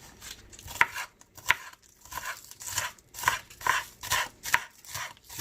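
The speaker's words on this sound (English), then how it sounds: "That's how we're going to chop up our green onions, about that size." A knife chops green onions on a cutting board, a run of quick crisp taps in an uneven rhythm, close and clear with no talking.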